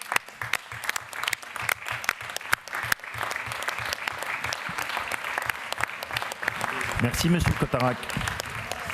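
In a political assembly, a sustained round of applause fills the hall, dense and steady clapping from many members lasting several seconds before someone speaks briefly over the fading claps.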